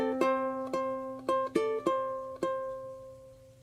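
Fingerpicked ukulele notes, about seven plucked chords and single notes in an unhurried rhythm, each ringing briefly before the next, close and clear with no voices.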